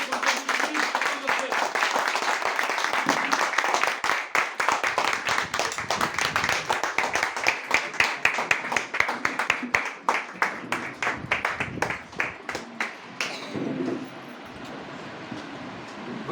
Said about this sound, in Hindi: मैं चाहता हूँ कि जब मैं उनको स्टेज पर बुलाऊँ तो एक ज़ोरदार तालियों से उनका स्वागत हो